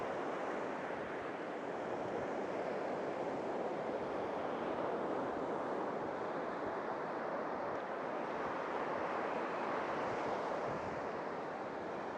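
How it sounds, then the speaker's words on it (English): Seawater spills over a small waterway on the shore at sunrise and runs back out, a steady, dense wash of surf and rushing water with wind across the microphone, continuous and fairly loud for the whole stretch, with no talking. "the way the water's spilling over this. And as the water runs back out"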